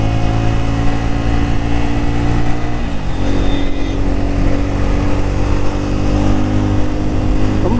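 A Bajaj Pulsar N250 motorcycle engine drones loudly and steadily while riding, its pitch dropping as the bike slows under front braking, with constant wind and road rush throughout.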